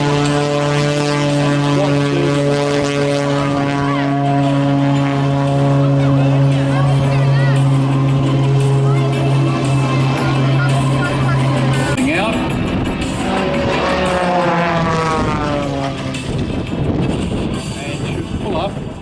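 A light propeller aircraft flies aerobatics over an air show, its engine droning loud and steady, then climbing and shifting pitch as it pulls vertical into a stall turn, with crowd babble underneath.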